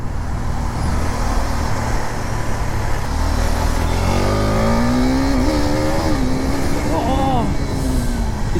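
A KTM RC 390 motorcycle pulls hard under a steady roar of road and wind noise, its engine note rising in pitch through several gears with brief dips at each shift.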